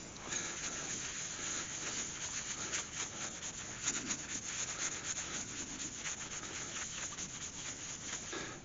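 Sanding sealer is rubbed onto a turned sycamore and resin bowl, making a steady, close, gritty rubbing and scrubbing texture with small irregular surges, continuous throughout and without talk.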